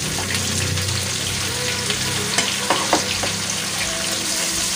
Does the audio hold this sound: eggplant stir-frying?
yes